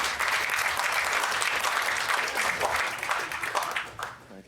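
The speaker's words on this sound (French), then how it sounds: "mesdames et messieurs, on peut l'applaudir" Audience applause for a comedian's guest named Franklin on a Quebec stand-up humour show, a dense, steady burst of many clapping hands close up that tapers slightly at the end.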